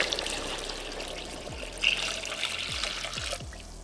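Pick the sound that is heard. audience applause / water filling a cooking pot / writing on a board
water filling a cooking pot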